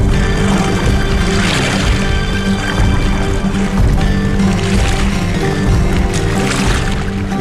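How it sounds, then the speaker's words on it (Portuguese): Oars of a replica ancient Greek trireme galley dipping and pulling through water, a steady wash of splashing and sloshing with faint rhythmic strokes, continuous and fairly loud with no voices. "O mestre da galé mantinha o ritmo dos remos para fazer com que todos remassem juntos"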